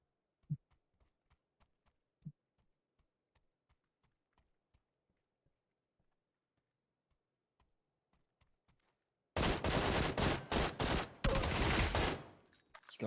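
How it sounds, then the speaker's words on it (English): Mortar shelling in PUBG: a run of faint, scattered thuds and ticks, then a sudden loud, sustained roar of dense blasts lasting a few seconds near the end. "Mortar."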